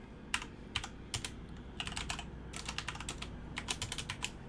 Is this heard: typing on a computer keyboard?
yes